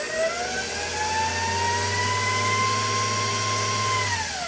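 An electric mixer beats coffee sponge cake batter with a steady high whine, held at one speed for a few seconds before slowing down near the end.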